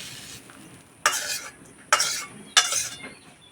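Soaked flattened rice (chira) is added to a pan and stirred with a utensil, giving three distinct scraping, clattering strokes against the pan over faint background sizzle, with no talking.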